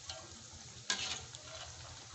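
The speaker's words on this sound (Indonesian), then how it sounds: "boleh kita balik dan kita goreng lagi hingga semua bagian sisinya matang sempurna ya" Bakwan vegetable fritters coated in batter fry in hot oil, giving a quiet, continuous sizzle with a brief sharper crackle partway through.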